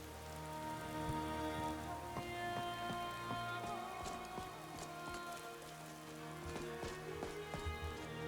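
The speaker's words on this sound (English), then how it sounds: "it's the sound of rain hitting the roof." Steady rain pattering on a roof in the video game Apostasy, a dense continuous patter layered over a sustained tonal musical background, with occasional sharper drips standing out.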